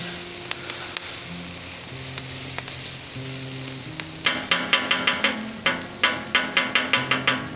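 Onions caramelizing in a pan give off a steady sizzle, joined midway by a run of sharp, rhythmic scraping knocks as they are stirred, with no talking.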